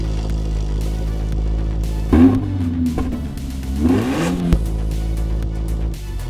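Toyota GR86 fitted with a TOM'S exhaust idling steadily, then blipped twice in quick succession, each rev rising and falling back to a smooth, close idle with no talk.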